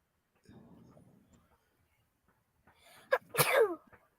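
A single sharp sneeze bursts out near the end, preceded by soft low murmuring and quiet rustling.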